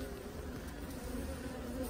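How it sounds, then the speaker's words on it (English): Honey bees packed into a medium hive super at a farm, a steady, dense, close buzzing hum that holds evenly throughout with no talk. "There's the medium super full of bees."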